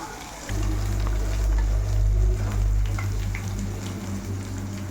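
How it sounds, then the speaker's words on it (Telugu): Ginger deep frying in oil for a Telangana-style brinjal and fish curry makes a dense, steady sizzle and bubbling that swells loud after a moment and carries on close by. "అల్లం చూడండి అంత డీప్ ఫ్రై అయ్యాయి"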